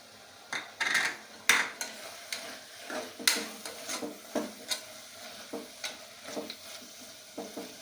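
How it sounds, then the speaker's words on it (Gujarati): Vegetables sauté in a pan for farali sama khichdi, a steady low sizzle broken by repeated scraping and clinking of a spoon against the metal as the mix is stirred, close and without talk. "સરસ આપણું સતરાઈ ગયું છે બધું શાક"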